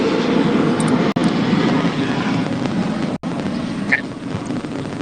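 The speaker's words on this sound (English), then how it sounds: "I'll wait for the plane." A fixed-wing airplane passes overhead as a steady, loud broadband roar that fills the whole stretch without letup.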